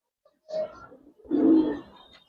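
Giribaz pigeons, coloring and silver birds, cooing in two soft low bursts close by, with a short pause between them and no talk.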